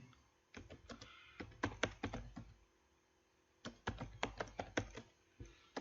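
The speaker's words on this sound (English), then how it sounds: "you can type anything you want right now" Two quick bursts of typing on a computer keyboard come through clearly: crisp, close key clicks in rapid irregular runs, separated by a short pause of quiet room hiss.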